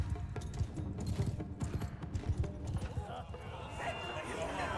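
Horse hooves clatter in a rapid, continuous clip-clop during a samurai battle in the Shokuho video game, with battle noise and a person talking over them.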